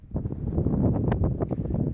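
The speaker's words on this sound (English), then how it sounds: "It's very windy still" Strong coastal wind at Donnelly River buffets the microphone in continuous low rumbling gusts, loud and close, with no voices.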